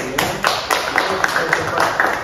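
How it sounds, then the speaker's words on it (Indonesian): A small group in a classroom guidance session claps hands in a brisk, fairly even rhythm, with close voices talking over it. "Tepuk tangan ya."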